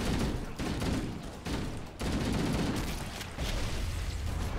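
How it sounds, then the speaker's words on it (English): Shotgun blasts in the video game Halo: Combat Evolved, several heavy booming shots in quick irregular succession amid chaotic combat noise, loud and close. "Damn shotgun."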